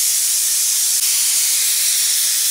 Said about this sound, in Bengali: এই যে প্রেশার কুকারে আলু সেদ্ধ দিচ্ছি আমি